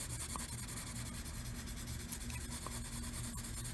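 A colored pencil moves lightly across a paper page in a continuous soft, dry rubbing scratch, steady and close throughout.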